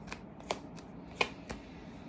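Tarot cards being shuffled close by in a quiet room, with five crisp riffling snaps at roughly even intervals over about two seconds.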